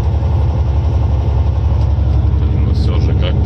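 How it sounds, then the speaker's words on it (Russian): A Volvo truck with an automatic gearbox drives a winding mountain road at about 60–70 km/h, its engine a loud, constant low drone heard from inside the cab. "Еду на Вольве, коробка автомат, еду 60-70 километров в час, потому что горы и повороты."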